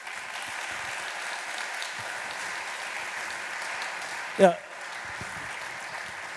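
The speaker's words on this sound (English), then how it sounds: "I think a warm applause from the audience" An audience at a rail safety conference gives a soft, steady round of applause that sounds somewhat distant and even, broken by one brief louder knock near the end and a short spoken word.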